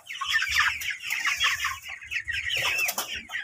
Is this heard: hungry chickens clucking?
yes